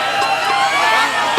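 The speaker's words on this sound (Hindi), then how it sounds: "ये हल्ला, ये शोरगुल, यही तो ओरिजिनल दौलत है हम लोगों का" Dense crowd din and cheering at a rural wedding procession with a dehati dance and dugola stage show, a steady wash of many voices and shouts filling the whole stretch at fairly close range.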